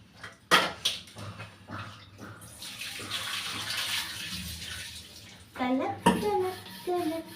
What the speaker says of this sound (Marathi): तोपर्यंत मी एक भांडा आहे घासाचं, चहा बनवला होता, तर ते घासून घेते